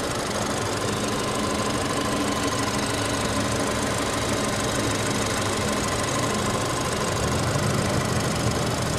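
A 1.5-litre EcoBoost inline four-cylinder engine in a Ford Fusion idles in a steady, dense mechanical hum with a faint ticking knock running through it, heard close and alone throughout.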